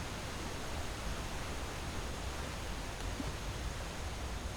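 A waterfall rushing in the video game Skyrim, a dense, continuous roar of falling water that stays even and unbroken throughout.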